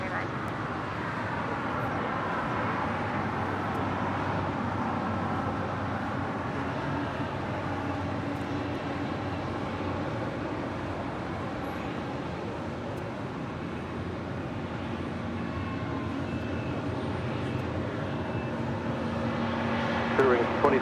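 A Spirit Airlines Airbus A320neo from Atlanta lands on runway 25 right at LAX, a broad steady jet roar holding for about twenty seconds with faint engine whine, while a voice talks over it.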